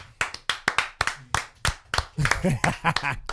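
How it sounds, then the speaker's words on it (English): A small group on a talk show claps for a guest with sharp, separate, close-up hand claps in an uneven rhythm, and a voice talks over the last claps. "Give a round of applause for Mally B, ladies and gentlemen."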